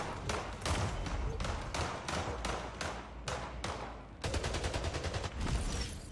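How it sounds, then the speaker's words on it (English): Rapid bursts of gunfire in the portal shooter Splitgate, sharp repeated shots in quick volleys with brief gaps, loud and close throughout. "Shooting through portals"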